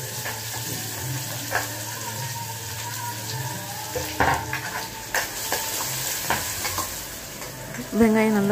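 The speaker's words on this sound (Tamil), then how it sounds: "வெங்காயம் சேர்த்து வதக்கிக்கோங்க" Onions sautéing in a pan for a Tamil home-style brown chana kulambu, a steady close sizzle with scraping stirs and clinks of a spatula, a louder clatter near the end.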